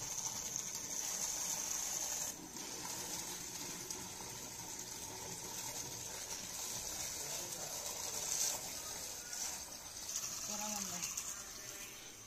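Water runs steadily into a container, a faint continuous gushing hiss that holds for about twelve seconds with small bubbling changes near the end, no one speaking.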